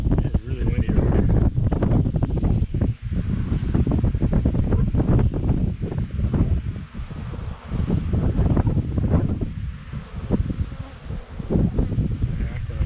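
Gusty wind rushes across the microphone at outdoor beehives, with buzzing bees faintly beneath the continuous low roar.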